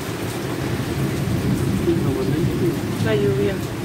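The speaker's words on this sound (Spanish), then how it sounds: "La lluvia." Steady rain falling outdoors, a dense continuous hiss with low rumbling underneath, heard close and fairly loud, with a brief faint sound near the end.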